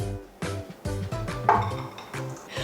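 Chopped apples, raisins and walnuts are tipped into a bowl of cookie dough, a quick series of clattering knocks and thuds against the bowl, close and fairly loud.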